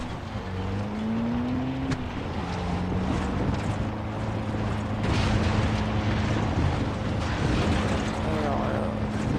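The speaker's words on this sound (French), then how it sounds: "Voilà, on prend la petite voiture." A small car driven in the video game Far Cry 3 gives a steady, continuous engine drone with shifting pitch that stays loud from start to finish, and no one talks over it.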